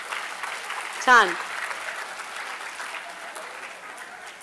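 An audience at an environmental gathering in Solapur rubs and pats their hands to imitate heavy rain, making a steady, hissing wash of noise; one person briefly calls out over it.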